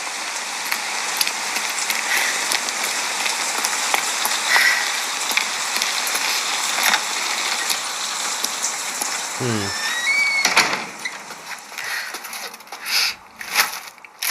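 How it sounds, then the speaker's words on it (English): Steady, hissing rain in the video game Evidence 111 pours continuously, with a few brief splashes and thuds near the end. "The rain's getting stronger."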